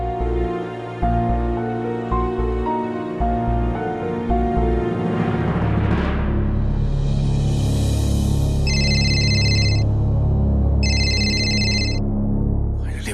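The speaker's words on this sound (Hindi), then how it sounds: "मंगल जी का फोन आ गया" A phone ringtone chirps in repeated electronic bursts over background music, loud and close, with no talking.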